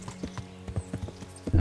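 A horse's hooves clip-clop in a quick, regular trot in the medieval video game Kingdom Come: Deliverance, each footfall distinct and close before a louder thump ends the run.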